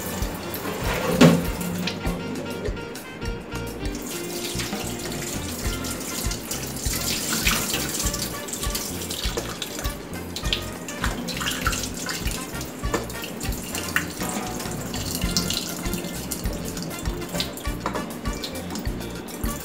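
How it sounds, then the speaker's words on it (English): Rice being washed for Latin-style rice pudding under a running kitchen tap: a steady rush of water splashing into a bowl, with swishing and sloshing as the grains are stirred, continuous and close. "I'm gonna wash the rice."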